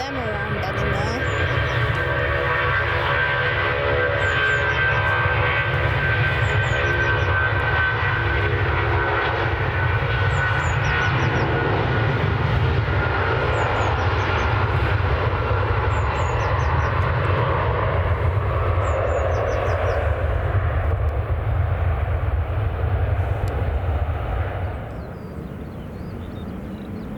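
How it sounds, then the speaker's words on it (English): A Jet2 Boeing 757 airliner taking off from Manchester Airport for Alicante, a long, loud, steady jet engine roar that holds before fading near the end, with a voice talking over it. "That's going to Alicante, and there's a Boeing 757"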